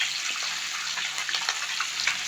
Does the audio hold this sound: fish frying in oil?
yes